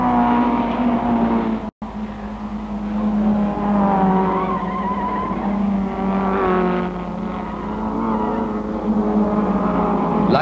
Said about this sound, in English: John Young's Anglia leads Powell's Jaguar at Paddock Bend.